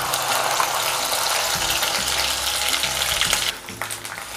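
Onion and coconut paste sizzles in hot oil in a wok for a spicy modak curry, a steady, close hiss that drops to a softer crackle near the end, with faint clinks of a utensil.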